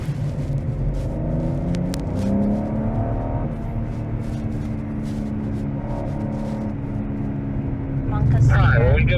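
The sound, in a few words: BMW car driving on race track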